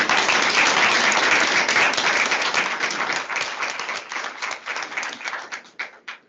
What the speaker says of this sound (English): Thank you for clapping now.